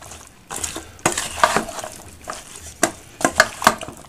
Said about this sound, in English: Give that a little mix.